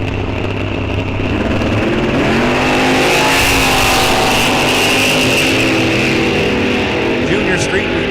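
Drag race cars launch from the line side by side, a Chevelle in the right lane, with loud roaring, revving engines rising in pitch as they pull away at a raceway, filling the whole clip.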